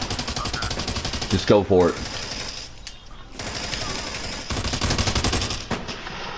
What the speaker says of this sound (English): We're going to distract by shooting.